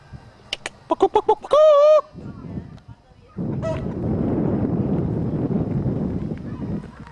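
Chickens squawk and cluck in quick bursts, then a big rooster's long harsh call rings out before a steady outdoor rustle and murmur of voices takes over, in Honduras.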